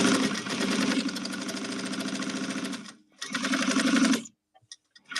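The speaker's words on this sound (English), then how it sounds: "So now I can sew this at a 1/2 inch or an 1/8 of an inch." A sewing machine stitches fabric in two fast, steady mechanical runs, the first about three seconds and the second about one second, each stopping abruptly, with a few faint clicks afterward and no talking.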